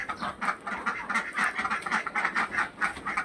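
A small group of farm ducks quacks in a steady, continuous run of close, raspy calls, overlapping with no pauses and no talk.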